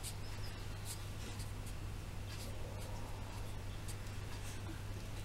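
A pen draws contour lines on paper, soft scratchy strokes in short uneven bursts over a constant low electrical hum, close and quiet.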